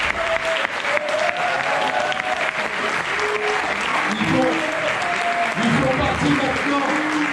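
Audience applause fills a trail and ultra race welcome conference, sustained steady clapping throughout with a speaker's voice continuing over it.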